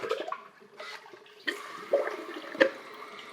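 A TOTO Aquia IV toilet flushes after its top button is pressed, a short gurgling rush of water with a sharper surge near the end, close by and fairly loud, with no talking over it.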